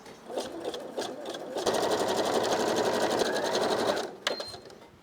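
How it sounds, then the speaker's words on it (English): A sewing machine stitching close along the edge of elastic: short starts, then a steady, close, whirring run of several seconds before stopping with a few brief final bursts. "they say stitch as close as you can to the edge of the elastic"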